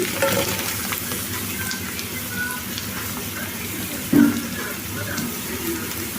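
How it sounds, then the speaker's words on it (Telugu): Cut drumstick pieces tossed into onions frying in a pan for a drumstick-tomato curry, producing a continuous sizzle with a sharp clatter of stirring midway, and no clear talk over it. "ఇప్పుడు దీంట్లో కట్ చేసి ఉంచుకున్న ములక్కాయలు అయితే వేసుకోవాలి"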